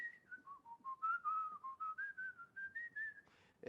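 A person whistles a wandering melody alone, a string of clear sustained notes gliding up and down, ending with a brief noisy breath.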